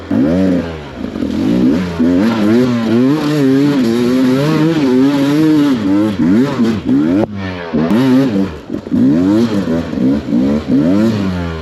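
A loud, close two-stroke motorcycle engine revs hard and continuously, rising and falling in pitch as it climbs a steep hill, with a brief dip midway before roaring on.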